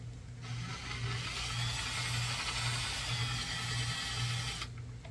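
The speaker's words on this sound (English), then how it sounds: "I'm just going to drill a hole directly in the middle with a 1/16" A steady, high-pitched drill whine runs continuously for several seconds at close range, starting and stopping abruptly, as a 1/16 bit drills a hole in a model RC submarine part.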